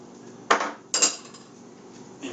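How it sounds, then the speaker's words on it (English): A spoon stirs Brunswick stew in a pot, giving two distinct metallic clinks against the pot close together and a softer scrape at the end, with no voices. "give it a good little stir"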